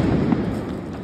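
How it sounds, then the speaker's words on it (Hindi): Firecrackers bursting during a Diwali celebration, a dense continuous crackle of overlapping pops and thuds at close range, loud and steady throughout with no pause. "गाइस कितने पटाखे चलाते हैं, मैंने तो चलाए भी नहीं"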